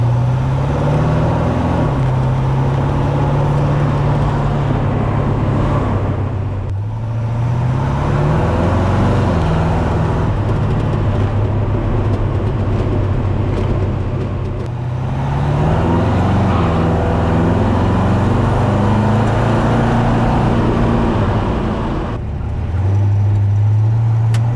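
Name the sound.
1952 Ford F-1 pickup with 350 engine driving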